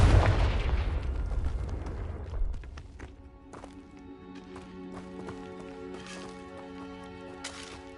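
Confringo blasting spells cast in Hogwarts Legacy, a loud fiery burst up front that decays into crackling debris and scattered sharp impacts, with a couple of later bright bursts over a low ambient hum.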